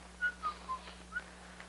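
A person whistles a short tune of several quick, separate notes at a moderate level over a faint steady hum, with no talking.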